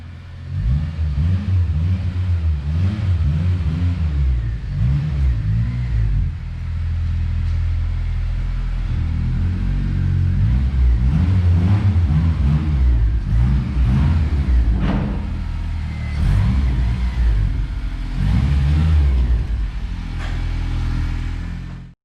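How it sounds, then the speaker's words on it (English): A stock 8th-gen Honda Civic K20Z3 engine fitted with a custom turbo kit revs hard on a dyno, a loud, sustained rumble that rises and falls through repeated pulls with no break for the full run. "This is an 8th gen stock engine with a custom turbo kit."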